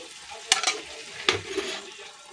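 Cashews and almonds, not fried first, drop into a cooking pot and get stirred, giving a few brief clattering bursts over a soft, steady background sizzle.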